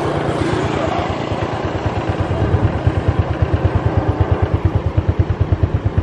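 A motorbike climbs a forest road toward the Co To lighthouse on Co To island, its engine chugging in a steady, rapid pulsing rhythm that grows more pronounced, close and fairly loud throughout.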